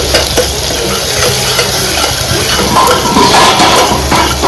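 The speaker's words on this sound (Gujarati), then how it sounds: "કાંદાને થોડીક વાર ચડવા દઈશું." Onions cook in a pan with a steady, close sizzling hiss and faint stirring noises, continuous and without talk.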